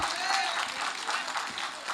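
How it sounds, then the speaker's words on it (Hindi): Applause from a mushaira audience at an All India poetry gathering, a broad, steady wash of clapping that stays moderately loud through the short stretch with slight swells, no distinct voices standing out. "देखें एक बार तालियां बजा के आप इजाज़त दें।"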